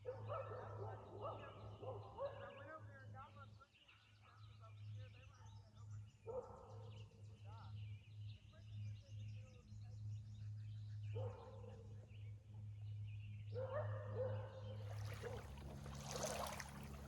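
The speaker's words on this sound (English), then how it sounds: "those dogs are still barking today" Dogs bark repeatedly across a lake, several yips and barks in irregular bursts, distant and fairly faint over a steady low hum, with a louder rush of noise near the end.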